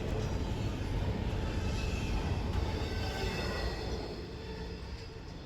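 Freight train hauling refrigerated intermodal containers from Hub Group, JB Hunt and Infinity Intermodal rolls past as a steady, loud rumble and rattle of cars that eases slightly near the end.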